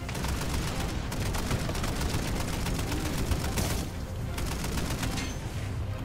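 Sustained automatic gunfire in a zombie mode of Call of Duty: Modern Warfare 3 (2023), dense rapid bursts with brief gaps, loud and continuous with no talk.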